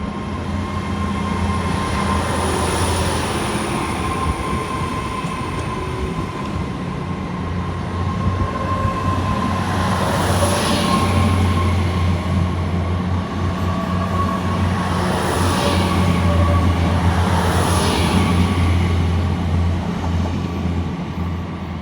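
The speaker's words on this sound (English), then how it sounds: "Got the Great Western Railway service to Plymouth now leaving." A Great Western Railway train to Plymouth pulls out of Newton Abbot station, a steady loud engine drone and rumble with rising whines and a constant tone, heard close and continuous throughout.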